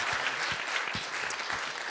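An audience at a panel event claps steadily, a dense, even patter of many hands filling the room with no other sound standing out.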